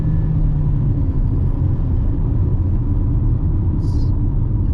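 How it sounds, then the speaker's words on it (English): A 2022–2023 MG ZST VIBE 1.5L with CVT transmission accelerating on the road, heard from inside as a loud, steady low engine and road rumble that holds smoothly without gear changes, no one talking. "Down on the accelerator."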